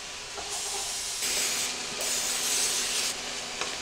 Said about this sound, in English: I'm just going to take some cooking spray